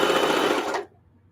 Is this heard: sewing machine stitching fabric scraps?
yes